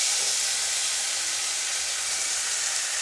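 Garlic paste hisses and sizzles steadily in hot oil with whole spices and bay leaves in a pan for prawn malai curry, a dense continuous frying noise close by with no talk.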